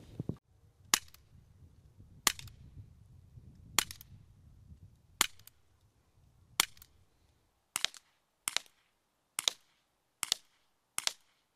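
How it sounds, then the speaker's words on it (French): A Bersa BP9 CC non-blowback CO2 airsoft pistol fired at a paper target, eleven sharp snapping shots, evenly spaced at first and then coming faster, with no talking. "On passe au test de tir précision sur cible."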